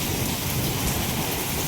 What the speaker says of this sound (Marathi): विजा पण चमकतात कडकते.